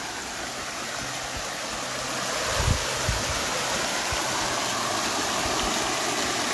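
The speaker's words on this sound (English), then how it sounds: "Such a beautiful stream today." A flowing stream giving a steady broadband rush of water, constant and fairly close, with a couple of soft low knocks partway through and no voices.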